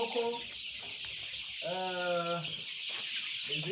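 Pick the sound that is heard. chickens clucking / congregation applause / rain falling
chickens clucking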